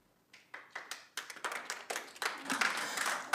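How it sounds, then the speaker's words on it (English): An audience at a city council meeting breaks into applause, beginning with a few scattered claps that quickly build into dense, steady clapping from many hands. "I very clearly said no clapping"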